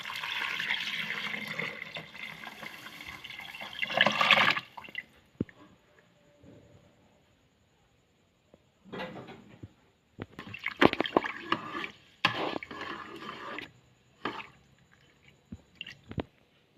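Water is poured into a pot of rice for chicken thum biryani in a rice cooker, giving a steady splashing stream for several seconds. Scattered clinks and handling noises follow after a pause.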